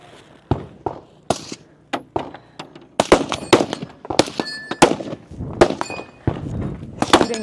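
Rifle rounds strike steel targets about 50 yards out, ringing with sharp metallic clangs and pings, a dozen or more irregularly spaced hits that grow quicker and denser toward the end.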